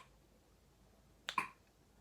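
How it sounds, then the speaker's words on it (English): A single crisp finger snap, close and clear, keeping a slow 40 BPM beat in an otherwise quiet room. "snap your fingers like I am"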